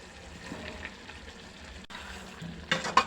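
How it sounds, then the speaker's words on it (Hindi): Peas and potatoes being stirred into a cooking gravy in a village-style home kitchen for aloo matar sabji, with a soft steady sizzle and faint scraping that grows a little louder near the end. "अब इसे अच्छा से मैं मिक्स कर देगी"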